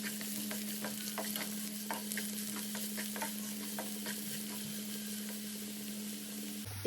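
Onion and garlic frying in a pan for egg Maggi, a constant close sizzle with soft scraping stir strokes repeating throughout, over a steady low hum.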